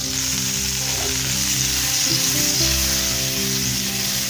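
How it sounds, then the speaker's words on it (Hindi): Butter melts and sizzles in a frying pan over a very low flame, ready for chocolate French toast sticks: a loud, unbroken close-up hiss over a faint low drone, with no voices. "अब हम इसे फ्राई करेंगे। हम इसमें मक्खन ऐड करेंगे।"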